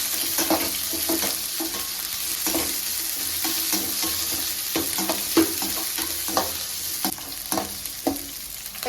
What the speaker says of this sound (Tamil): பூண்டு வெங்காயம் எல்லாம் போட்டு நல்லா வதக்கிக்கலாம்